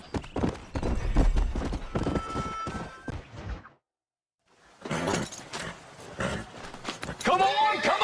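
Horses galloping in Red Dead Redemption, a dense clip-clop of hooves under shouting and talk, cut by a brief silence before the hoofbeats and voices return.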